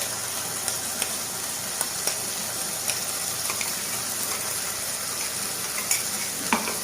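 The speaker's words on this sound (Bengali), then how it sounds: "আবার নেড়ে নেবো, ভালো করে ভেজে নেবো।" Ginger, garlic and green chili paste fries in a pan with a constant bright sizzle, punctuated by several scattered clicks and scrapes as it is stirred, close by and without speech.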